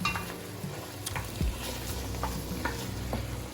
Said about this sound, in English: We're just gonna cook this over medium-high heat and go in and start breaking up the meat like so.